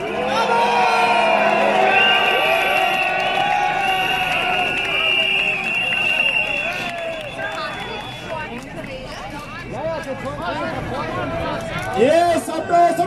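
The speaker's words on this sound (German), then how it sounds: "Bitte einen Applaus an unsere Polizei!" A large crowd at a demonstration on Heldenplatz in Vienna applauds and cheers for the police. The sound is a loud, sustained roar of voices, whoops and whistling.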